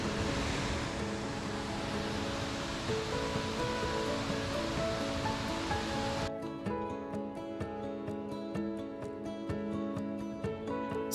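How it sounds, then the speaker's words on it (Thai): Broad, steady roar of Mae Ya waterfall falling over a large rock cliff in forest on Doi Inthanon, loud and continuous, with a denser rush at first and a slightly thinner, crackling spray later. "และนี่คือน้ำตกที่สวยงามและยิ่งใหญ่ มากเลยครับ"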